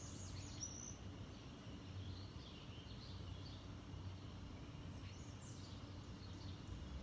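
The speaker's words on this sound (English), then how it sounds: "take in the bird song" Birds sing outdoors in a quiet natural setting, with faint scattered chirps and short trills over a soft steady background hum. The calls are distant and sparse, with no talking.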